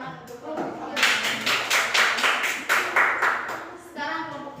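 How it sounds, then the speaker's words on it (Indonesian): Students in a mathematics classroom clap for a group after its presentation, a short run of sharp, rhythmic claps from a small group of children, with voices talking before and after. "tepuk tangan untuk kelompok 3"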